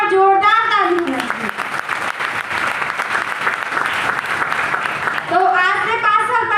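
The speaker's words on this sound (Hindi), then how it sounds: "सभी लोगों के लिए एक बार जोरदार ताली है।" Loud audience applause at a gathering honoring team leaders, a dense sustained round of clapping with voices rising over it at the start and end.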